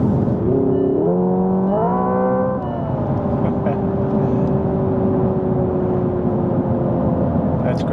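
A 650 bhp Hyundai Ioniq 5 N electric car accelerates hard. A synthetic engine tone climbs in distinct stepped shifts, then settles into a steady drone over loud road and wind roar.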